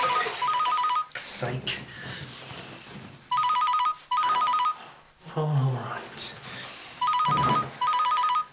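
An old-style telephone bell rings in repeated double bursts, loud and close, with conversation between the rings.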